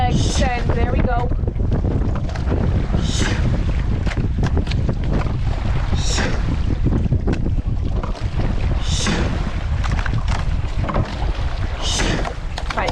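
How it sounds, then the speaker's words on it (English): A rowing boat on open water is hit by heavy, steady wind buffeting and wave noise, with rhythmic oar strokes recurring about every three seconds, loud and close throughout. "Fighting a bit of wind here, fighting a bit of waves."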